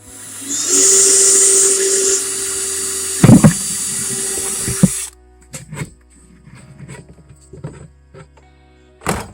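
A 1-inch hole saw on a power drill cutting through the center of a plastic bucket: a steady high whine for about five seconds with a few sharp grinding bursts near the end, then quieter clatter and handling noises.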